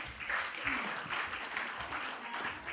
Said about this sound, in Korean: 여러분 다시 한번 큰 축하의 박수 부탁드리겠습니다